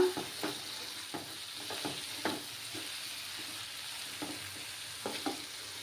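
Spices being sautéed for a dry fish (shutki) dish with potato and brinjal, a soft steady sizzle under repeated scraping strokes of a spatula against the pan, faint and close, with no voices.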